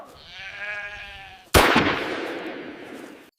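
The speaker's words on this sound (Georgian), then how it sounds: "გელა მართლა ისროლა იარაღი" A single sharp gunshot in a forest, a sudden loud crack halfway through that decays into a long rolling echo, preceded by a bleating animal sound.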